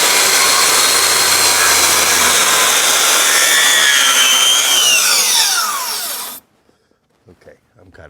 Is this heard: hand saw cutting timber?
yes